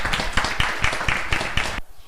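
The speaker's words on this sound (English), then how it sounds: "Let's give him another round of applause." Audience applause for a speaker at a networking event, a brief burst of steady clapping that stops abruptly near the end.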